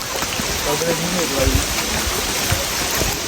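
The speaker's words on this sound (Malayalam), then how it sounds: "നല്ല മഴ" Steady, dense rain hisses all around at Matheran, with a voice talking briefly over the downpour.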